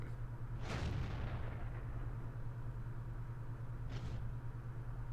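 Tanks in the World of Tanks video game take shellfire hits, with two loud, sharp impact blasts about three seconds apart over a steady low engine rumble.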